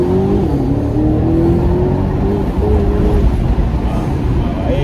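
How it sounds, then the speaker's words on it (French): Aston Martin DBX SUV with open exhaust accelerating hard, a loud close engine roar whose pitch climbs steadily through the run, with a voice faintly under it. "On va faire une petite accélération."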